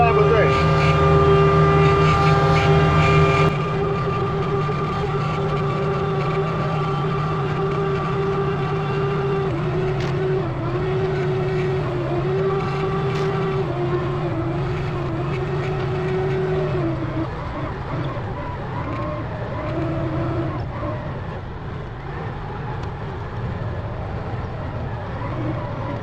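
A loader's engine drones steadily while riding in an ice-covered machine, a loud continuous low rumble with a slight shift in pitch partway through and no talking.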